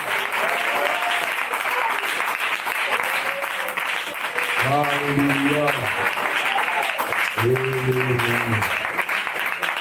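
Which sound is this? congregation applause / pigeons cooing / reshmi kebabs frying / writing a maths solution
congregation applause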